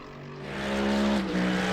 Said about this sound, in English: V8 in this thing sounds amazing too.